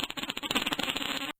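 A novelty fart sound effect called the running out of gas fart, one dense sputtering blast lasting just over a second, loud and close, then cutting off abruptly into silence.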